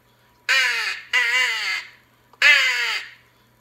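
A small wooden crow call blown in three harsh, raspy caws imitating a crow, each about half a second to three-quarters of a second long, the first two close together and the third after a short pause, loud and close with no talking.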